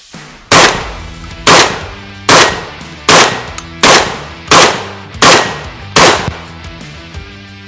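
Eight sharp shotgun blasts from a Beretta 1301 Tactical on an outdoor range, fired in a quick, even rhythm about one every 0.8 seconds, each loud report trailing off briefly with no talk.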